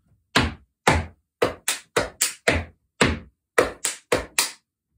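Body percussion rhythm of foot taps and back claps for a dance routine, about a dozen crisp close hits in an uneven repeating pattern with silence between them.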